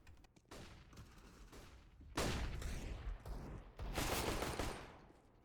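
Glock pistol gunfire on the Mirage map in Counter-Strike, heard as a rapid run of shots with two louder bursts, fairly close, with no talk.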